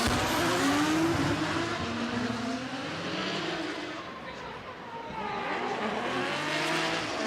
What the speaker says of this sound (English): Takahashi going in at a high speed, and Meguro not able to hang, washes out and spins out